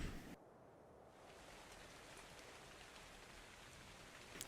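In the video game Ark Survival Evolved, rain falls steadily as a soft, even hiss of drops, faint and constant throughout with no voices.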